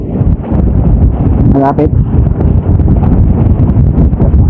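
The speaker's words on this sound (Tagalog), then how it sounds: "Uy, medyo malakas ang ating hangin, ha?" Strong wind buffets an outdoor microphone at a women's cycling race in La Union, a loud continuous low rumble beneath a commentator's excited talk, with a brief tonal burst midway.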